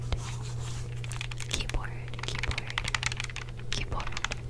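Buttons and keys clicked on an Xbox 360 controller fitted with a clip-on keyboard, a soft rapid patter of close, quiet taps with faint whispering underneath.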